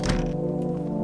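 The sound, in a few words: banging on a door in a video game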